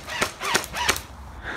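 BB gun fired at a bumblebee, three quick sharp pops spaced roughly a third of a second apart, close and fairly loud, followed by a fainter tail of noise.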